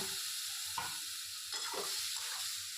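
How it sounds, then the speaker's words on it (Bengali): Egg masala sizzles loudly as tadka hits it, a steady frying hiss with a few scraping stirs of a spatula, close and continuous with no voices. "তরকাটা দিয়ে দিলাম।"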